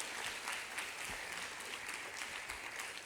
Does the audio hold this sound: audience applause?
yes